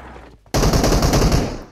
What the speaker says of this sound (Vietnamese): Nó đang bắn nhau sao ấy.